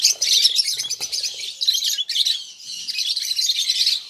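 Lovebirds call in an outdoor aviary, a dense, continuous chorus of shrill chirps and tweets from many birds close by, with no talking.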